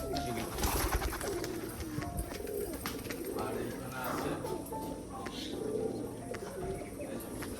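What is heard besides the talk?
pigeons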